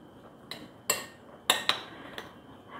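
A spoon clinks against a bowl while sweet corn salad is mixed with squeezed lemon juice, giving five or six sharp, sparse taps over a quiet background.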